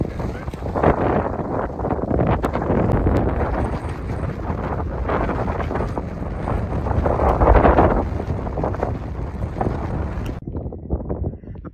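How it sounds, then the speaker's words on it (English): Strong wind blasts across an exposed slope in Wales's Black Mountains, a loud continuous roar buffeting the microphone with gusty surges, easing near the end. "Apologies for the wind now,"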